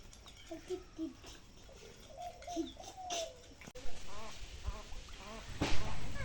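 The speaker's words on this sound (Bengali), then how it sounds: "এই যে এখানে দেখেন আমাদের হাঁসগুলা" Ducks quack beside a netted pond next to a farmhouse with paddy fields nearby, a run of short nasal calls rising in the second half while a person talks over them.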